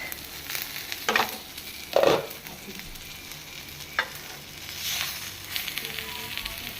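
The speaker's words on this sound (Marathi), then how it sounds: "चारी सायड मातशी बरी भाजून घेवपा जाय" Mackerel fillets coated in turmeric fry in a pan, a steady close sizzle with a few louder crackling bursts and scraping turns as the fish is flipped to brown on each side.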